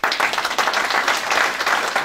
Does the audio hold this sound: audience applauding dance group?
yes